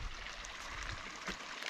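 Water from a shallow, low-running stream flowing beside a stone building site, a close, steady rushing and trickling wash with no talking.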